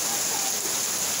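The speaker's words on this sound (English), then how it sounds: "the rain's so heavy" Dense, steady hiss of heavy rain pouring down, even and unbroken throughout.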